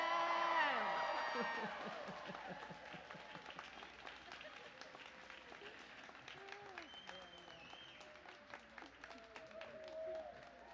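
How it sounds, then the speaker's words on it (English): Graduation audience at a University of Tennessee College of Social Work commencement in Nashville cheering and clapping after degrees are conferred, loudest at the start and then fading to scattered applause and voices, fairly distant and faint. "That's where we cheer."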